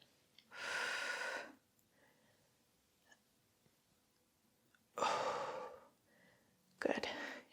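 Breathy exhales during a resistance band upper-body workout: two or three close, soft whooshing breaths, each about a second long, separated by quiet pauses.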